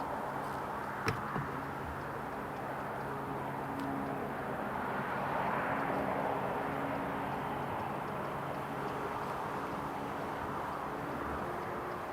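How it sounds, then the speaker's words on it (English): A Ryanair airplane taxis at Newcastle International Airport, its engine making a steady broadband roar heard from a distance, continuous and even throughout with a faint click near the start. "Vacating to the right, taxiing to stand number 5 for Ryanair."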